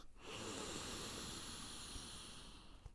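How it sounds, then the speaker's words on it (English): A single long, deep breath during yoga, heard close and breathy as a steady hiss lasting a few seconds. "let's take a few nice deep breaths."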